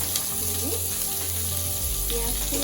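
Chicken frying in a pan, a continuous dense sizzle with a low steady hum underneath, close and fairly loud, no talking.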